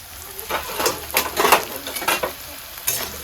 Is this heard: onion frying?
yes